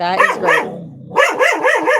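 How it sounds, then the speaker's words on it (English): A dog barks at thunder, giving a couple of close, loud barks, a brief pause, then a quick run of sharper yapping barks, with a short spoken remark over it. "Sorry that my dog is barking."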